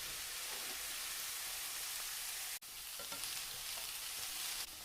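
Potatoes fry in a pan with softened peppers and onions for a roast pork hash, giving a dense, even hiss like rain with a brief drop out midway, steady and close.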